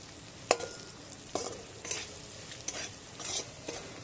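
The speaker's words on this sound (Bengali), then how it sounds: "আমি এই মাছের মাথাটাকে ভালো করে নেড়ে চেড়ে নেব" A spoon scrapes and stirs hilsa fish heads in a sizzling pan with colocasia greens in progress, several distinct scraping strokes over a soft steady frying hiss.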